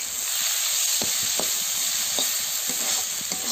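A bitter gourd and egg curry being stirred as it fries in a pan, with a bright, continuous hiss of sizzling oil and soft spatula taps about every half second, heard close with no voices.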